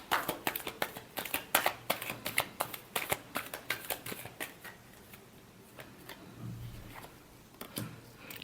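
Tarot cards being shuffled by hand, a quick run of crisp riffling snaps in steady rhythm that slows and thins toward the end, close and clear with no talk.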